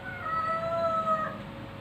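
A cat's drawn-out meow with a wavering pitch, steady and moderately loud over a low background hum, brief and without talk.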